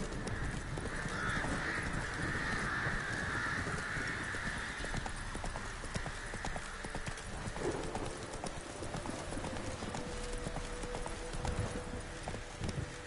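Horse hooves clip-clop steadily in The Witcher 3 as the mount gallops, a constant rhythmic drumming under a broad wash of wind and ambience, with crows cawing faintly in the background.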